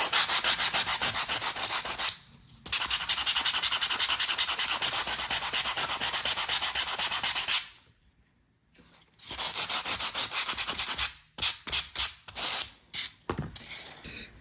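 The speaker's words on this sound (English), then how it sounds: "take my sanding block and sand that smooth" A stair part being sanded by hand with a sanding block: long, steady scraping strokes with two brief pauses, then a series of quicker, shorter rubs toward the end. Close, no voices.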